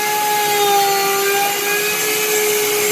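CNC router cutting a half-inch pocket in a workpiece: a steady, loud, high-pitched whine with sustained tonal hum, continuous and close for the whole stretch with no voices.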